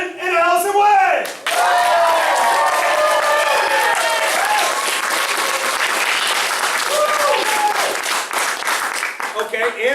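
At a family martial arts centre's belt ceremony, an audience breaks into loud, sustained applause lasting several seconds, preceded by a short spoken voice and tapering as someone starts speaking again.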